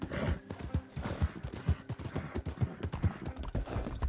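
Horse hooves clip-clop in a steady, close walking rhythm in the Red Dead Redemption 2 video game, with a brief whinny-like tone mixed into the regular thuds and no one talking.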